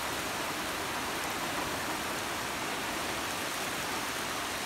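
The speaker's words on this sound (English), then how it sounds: "First rain since I've been here." Steady rain pours down at an off-grid homestead build site, a dense, even hiss that holds constant and fairly loud throughout, with no voices.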